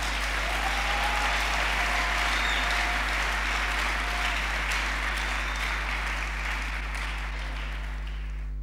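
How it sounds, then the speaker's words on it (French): A church congregation gives loud sustained applause, a dense uniform roar of clapping that eases toward the end, with a constant low electrical hum beneath it and faint tonal sounds in the background. "J'aimerais qu'on acclame la parole de Dieu."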